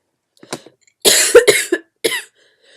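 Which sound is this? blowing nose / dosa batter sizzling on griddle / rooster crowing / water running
blowing nose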